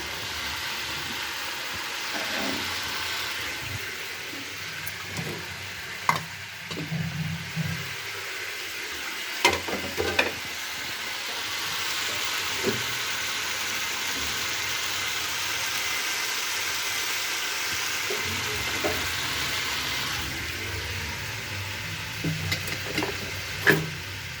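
Cubed new potatoes fry in a pan for a homemade potato chorchori, sending out a continuous medium sizzle with occasional sharp utensil scrapes and knocks, no voices.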